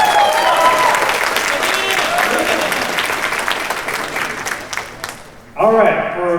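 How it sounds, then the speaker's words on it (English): A crowd applauding loudly and steadily for several seconds at an arcade gaming event's closing ceremony, then a voice starts talking near the end. "Let's give him a round of applause."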